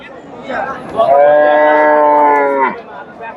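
A crossbred Friesian dairy cow gives one loud, drawn-out moo close by at a cattle market in Bogura, lasting under two seconds, with quiet background before and after.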